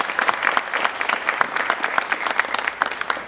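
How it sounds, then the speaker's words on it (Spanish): Crowd applause as professional cyclists of the EPM Tigo Une team are introduced at a presentation event, with sharp, individually audible claps in a lively rhythm from a nearby audience. "Un aplauso para Fabio Duarte."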